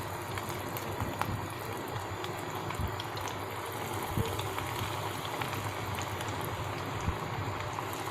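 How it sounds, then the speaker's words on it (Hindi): Chicken bread sticks fry in hot oil, giving a steady, dense sizzle and bubbling that holds even and close throughout. "यहाँ पर माशाल्लाह से ऑयल गर्म हो चुका है, तो अब मैं इनको फ्राई करूँगी"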